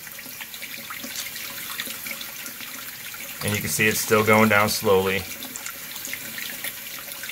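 Cold tap water runs into a sink in a house near St. Louis in late January, a steady background trickle that swells into a stronger gush for a couple of seconds while someone talks over it.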